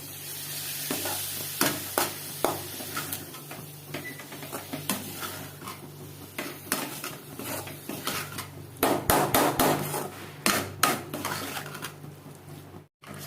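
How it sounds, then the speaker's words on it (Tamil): Prawns coated in masala stirred and fried in a pan, with repeated sharp scrapes and clanks of a utensil against the metal over a steady sizzle, loud and close, no voices. "இப்போ ப்ரான் சேர்த்துட்டு இதை கொஞ்சம் நல்லா வந்து கலரி விட்டுடணும்"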